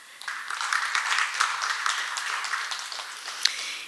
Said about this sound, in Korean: 박성용 실장님께 다시 한번 큰 박수 부탁드립니다